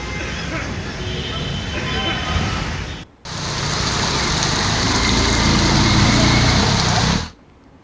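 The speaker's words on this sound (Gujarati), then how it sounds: "ખાસ કરી બારડોલીના વિવિધ વિસ્તારોમાં વરસાદ પડ્યો છે" Steady rain falls across Surat district near Bardoli, a broad continuous hiss with a brief break before resuming louder, mixed with traffic noise and faint background voices.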